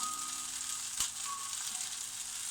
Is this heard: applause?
no